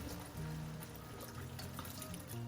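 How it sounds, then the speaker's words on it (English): A splash of white wine trickles into a pan of mushrooms for a buttery pasta sauce, a soft continuous pour under low kitchen hum. "let's get that in the pan. Do about a splash of white wine"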